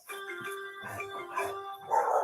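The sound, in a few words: dog barking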